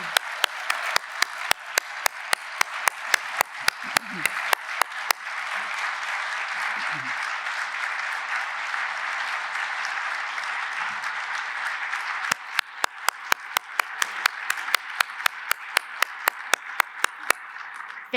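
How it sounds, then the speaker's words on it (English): Sustained audience applause at a 50th anniversary summit opening ceremony, a dense roar of clapping with sharp individual claps standing out near the start and end. Faint voices are heard in the middle. "Let's have a round of applause for M."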